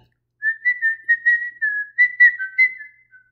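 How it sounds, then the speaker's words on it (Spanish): A person whistles a short, wandering tune alone, a run of clear notes with brief gaps, close and fairly soft. "con las manos en los bolsillos se puso a silbar."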